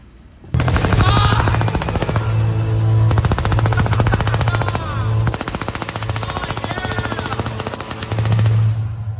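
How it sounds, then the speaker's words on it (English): Rapid mechanical bursts of a fake prop gun firing at a concert, loud and sustained in repeated volleys with brief gaps, amid a large arena crowd's roar. "he breaks out a fake gun"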